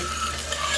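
Chopped garlic and onion stirred in a frying pan, a brief close scrape and faint sizzle with no voices.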